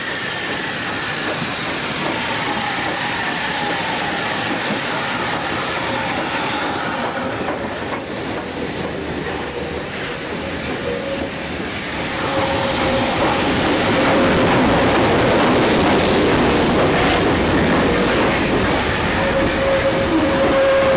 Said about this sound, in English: arriving at Oxenholme Station with the breakdown train is 90733, a locomotive with a very interesting history